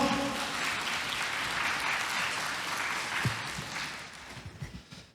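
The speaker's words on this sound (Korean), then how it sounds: "여러분 큰 박수로 환영해 주시죠" Applause from an audience welcoming a railway company HR team leader onto the stage at a Saemangeum job concert; sustained steady clapping that thins into scattered claps toward the end.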